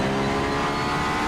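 Race car engine in the Assetto Corsa driving game, an unmuffled racing car droning loud and steady with a buzzy, continuous tone throughout.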